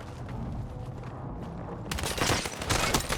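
Rapid bursts of gunfire in Battlefield 6 battle royale crackle continuously, growing louder and denser partway through, with no one speaking.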